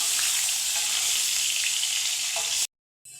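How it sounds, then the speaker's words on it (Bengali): Potatoes fry with turmeric and salt in a pan, a loud, steady hiss of sizzling oil with faint crackles that cuts off abruptly into brief silence near the end. "ভালো করে ভেজে নিতে হবে।"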